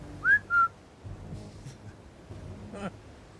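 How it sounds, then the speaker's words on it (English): A person whistles two short, clear notes near the start: a quick rising note, then a steady held one. Only faint room noise and low murmur follow. "I'll whistle."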